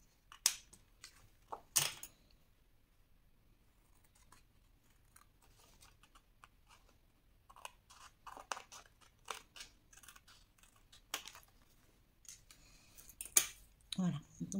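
Scissors snip through paper for a scrapbook album in short, sharp bursts with pauses between cuts, close and fairly quiet, with some rustling of paper.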